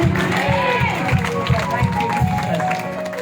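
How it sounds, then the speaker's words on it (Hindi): Applause at a prayer meeting where hands were laid on people, a crowd clapping in a steady rhythmic beat under a loud voice speaking over a microphone, with faint cheering. "जोर से ताली हो जाए यीशु के नाम से।"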